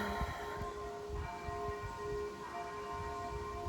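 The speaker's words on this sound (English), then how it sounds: "And now they're just tolling the bell." A church bell tolls after mass, its steady ringing tone carrying from a distance over a continuous low rumble outdoors near a cabin in nature.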